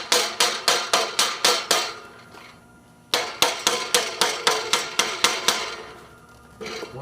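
A hammer taps parts down in a quick series of sharp, bright metallic strikes, one run of about eight blows, a pause, then a second longer run and a final hit, close and distinct with no talking.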